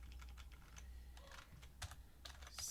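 Someone types quietly on a computer keyboard while writing JavaScript form code. The keystrokes come in short, uneven bursts of clicks with small pauses between them.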